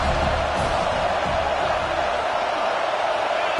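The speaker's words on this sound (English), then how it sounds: "this crowd is turning it up a notch" A packed stadium crowd in a college football video game, Auburn against Missouri, roars in a steady, loud wash of cheering, swelling briefly early on, with a commentator talking over it.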